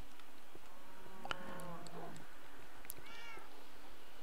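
A Minecraft cat gives a couple of short meows close by, over faint ambient noise, with no talking.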